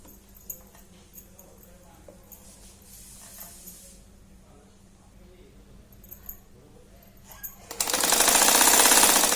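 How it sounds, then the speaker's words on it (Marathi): A sewing machine stitches a small fabric coin pouch shut, bursting into a loud, steady buzzing run near the end after a quiet stretch of faint clicks and handling sounds. "आता याला बंद शिवून घ्यायची."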